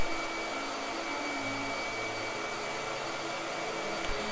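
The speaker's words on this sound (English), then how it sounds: "Blow dryer." A blow dryer running during a painting session, a steady whirring motor hum with a constant airy hiss, held level for several seconds before a short bump at the end.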